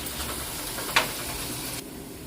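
Onions and potatoes sauté in a pan for a dried fish curry, giving a brief continuous hissy sizzle with one sharp clack of a utensil midway before it quiets slightly.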